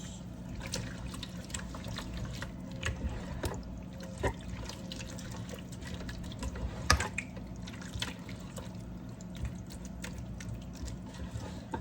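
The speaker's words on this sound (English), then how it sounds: "And I'm going to add some water too." Water poured into a Ninja Speedi pot holding diced tomatoes and tomato puree for a pasta bake gives a soft, faint trickling and splashing with small drips, steady and close throughout.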